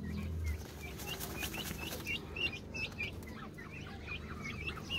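Young turkeys about a month old cluck and chirp softly while taking a sand bath, with repeated short calls and some wing flapping against a low steady background.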